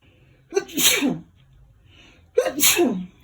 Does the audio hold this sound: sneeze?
yes